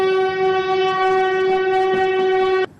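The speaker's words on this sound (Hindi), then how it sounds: "देख ट्रेन आ गई, चल बेटा जल्दी उठ जा" A train's horn blares in one long, loud, steady harmonic blast lasting over two seconds before cutting off abruptly, as the train pulls into a station.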